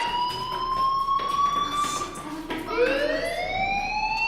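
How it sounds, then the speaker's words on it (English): A fire alarm blares inside the Life Is Strange video game, a steady electronic wail with layered tones that slides upward partway through, loud and continuous over faint background ambience. "Hey, do you hear that fire alarm? That means you should be outside."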